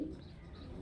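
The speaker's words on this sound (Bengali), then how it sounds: "আমি পায়রাগুলো জাস্ট এখনই ব্যাগ থেকে বের করলাম" Pigeons of fancy breeds such as Kalshira, Madrasi, Giribaz and Kalduma coo softly just after being taken out of a bag, a low continuous murmur at close range with no talking.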